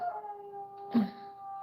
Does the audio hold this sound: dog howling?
yes